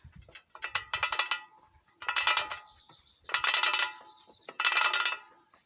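An old Deering one-horse horse-drawn mower under repair, its gear mechanism turned backwards, gives four loud ratcheting bursts of clicking pawls and gears, each about a second long with short pauses between.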